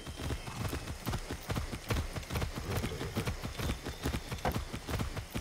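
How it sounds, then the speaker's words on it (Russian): A horse ridden along trails in the video game Far Cry 6 clip-clops at a brisk, steady rhythm. The hooves are close and continuous over quiet background ambience, with no talk. "Тут можно по таким тропинкам на этом коне скакать."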